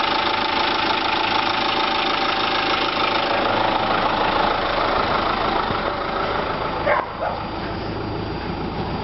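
A Kia Bongo 3 with a J3 engine idles with a steady, loud, close rumble, its rapid knocking and tapping running throughout with no talk.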